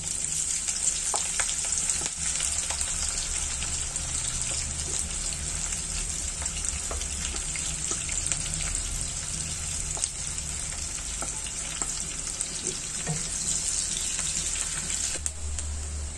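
Onion sizzling steadily in hot oil in a pan, a dense continuous frying hiss with faint crackles throughout, close and fairly loud, no voices.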